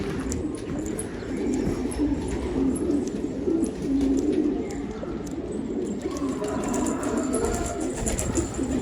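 An ink pigeon coos repeatedly in low, rolling calls, fairly close, over a steady outdoor background with faint chirps from other birds.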